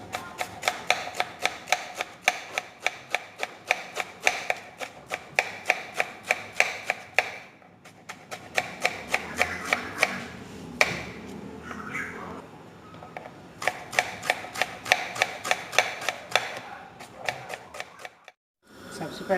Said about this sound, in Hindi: पहले हम प्याज काटेंगे।